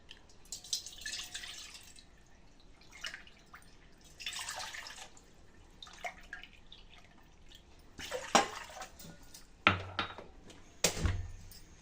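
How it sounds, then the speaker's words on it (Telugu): Intermittent splashes and trickles of water poured in short bursts from a tea cup into a pan on a stove, with drips and a couple of sharp clanks of the pan or cup. "స్టవ్ మీద ఒక ప్యాన్ పెట్టుకొని టీ కప్పుతో 3 కప్పుల వాటర్ని యాడ్ చేసుకోవాలండి"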